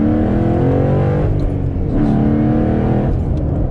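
Ford Mustang engine roaring loudly up through the gears from inside the car, a strong rising growl that dips briefly at each shift before pulling hard again.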